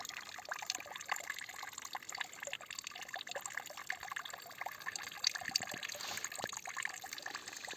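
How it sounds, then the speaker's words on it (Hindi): Clear stream water flowing over rocks in a jungle, a steady close rushing and trickling wash with no pauses. "ये और ये बहता हुआ पानी"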